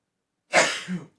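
A single close sneeze, sharp and breathy, following a moment of silence.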